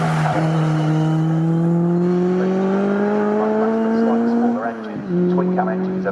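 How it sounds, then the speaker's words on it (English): Classic race cars, including a Triumph TR4, race on the Snetterton circuit in a CSCC Classic K Series event. Loud, close engines rise steadily in pitch, then dip briefly as a car lifts off and pulls away again. "is coming under big pressure from Neil Howe's Triumph TR4, who would like to try and wiggle his way through"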